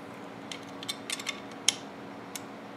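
Shotgun fore end on an IAC Hawk 982/981R being slid onto the magazine tube, giving a handful of faint, light metallic clicks and scrapes in quiet surroundings.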